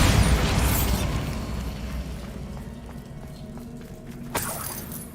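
Bombarda explosion spell in the Hogwarts Legacy video game: a loud blast that decays into scattering, rain-like debris and crackle, followed by a sharp second impact near the end.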